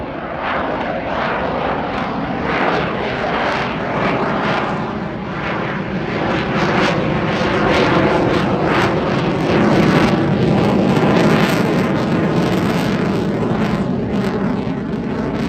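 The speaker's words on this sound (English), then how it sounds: "a thrust vectoring nozzle at the rear moves to provide propulsion for forward flight or lift" F-35 fighter jet flying a display at the RIAT 2024 airshow, a loud, continuous broadband engine roar that stays steady throughout and carries no speech.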